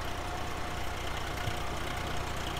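A Swaraj 735 tractor engine in Farming Simulator 19 runs at a steady, low, droning idle-like rumble throughout, moderately loud, with no talking.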